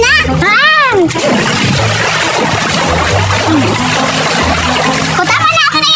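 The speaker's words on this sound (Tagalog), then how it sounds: "Grabe naman kayo makalunod sa tubig." Water splashes and pours loudly over a person as a playful punishment, a continuous wet sloshing dump, while children shriek and people talk and laugh over it.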